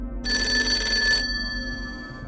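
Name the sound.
landline telephone ringing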